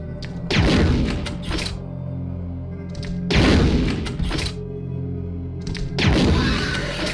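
Gunfire in Resident Evil 2: three loud, sharp shots about three seconds apart, each with a decaying tail over a steady low in-game hum.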